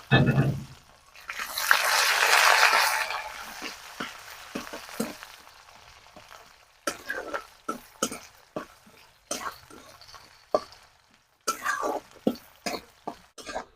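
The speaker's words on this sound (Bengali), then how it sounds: "কুচি করা পেঁয়াজটা একদম লাল লাল করে ভেজে নেব" Chopped onions frying in hot oil in a pan for a chicken and potato curry, opening with a loud, broad sizzle that fades into scattered clicks and scrapes of stirring.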